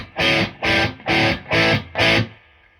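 Electric guitar lead tone through a Creamback Neo speaker in a pine cabinet: five loud, distorted sustained notes, evenly spaced, each cut off cleanly before the next.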